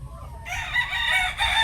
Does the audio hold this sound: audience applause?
no